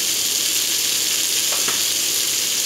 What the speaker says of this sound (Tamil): வெங்காயம் வதக்கிட்டு இருக்கும்போதே கருவேப்பிலை பச்சை மிளகா இஞ்சி எல்லாம் சேர்த்துக்கிறோம்